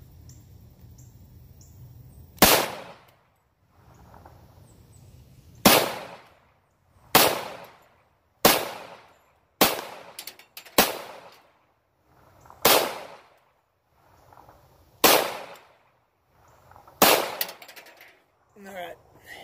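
Gunshots fired into a bucket bullet trap outdoors: about nine loud, sharp single reports spaced a couple of seconds apart, each with a short ringing decay, with quiet gaps between.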